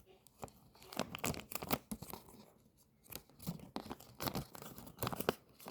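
Paper is folded in half for an origami tank, producing close, quiet bursts of crinkling and creasing rustles at irregular intervals.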